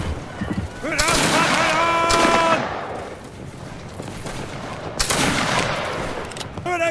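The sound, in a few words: musket volley fired by a line of Saxon fusiliers in a Napoleonic video game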